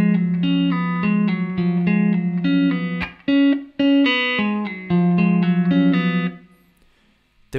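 Electric guitar chord pattern with pull-offs to open strings from a song, played as a repeating bright arpeggiated figure with clear sustained notes, briefly interrupted midway, then ringing out and fading.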